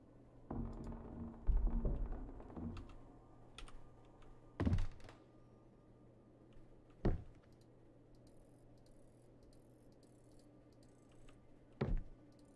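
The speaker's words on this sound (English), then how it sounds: "It makes a clicking sound when you are on the right track" Sparse mechanical clicks and clunks from a dial lock puzzle in the horror game Visage, a few sharp isolated knocks spread out over a quiet, low background hum.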